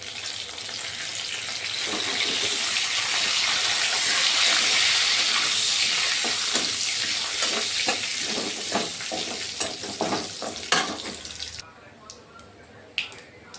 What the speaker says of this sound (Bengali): জিরে ভাজা হয়ে গেছে